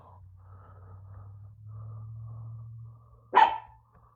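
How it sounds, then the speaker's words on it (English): An angry dog lets out one loud, sharp bark near the end, after a quiet stretch filled with a low steady indoor hum. "You hear my dog? She's pissed."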